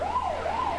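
An ambulance siren wails in a brief, loud, close rising-and-falling sweep lasting under a second.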